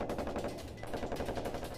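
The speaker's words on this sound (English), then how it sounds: "the first gunfire burst" Rapid bursts of automatic gunfire crackle continuously in a combat attack in Afghanistan, dense and loud, with repeated sharp volleys over a low rumbling background.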